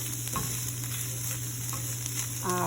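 Eggs cook down in a frying pan with a steady, close sizzle and a faint constant hum, with light scrapes of stirring now and then and no talking.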